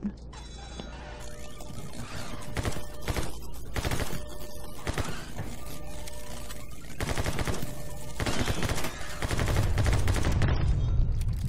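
Heavy gunfire from a Kar98 in My Friend Pedro, a loud, busy barrage of rapid shots and impacts that keeps going throughout with game music underneath, while someone talks over it.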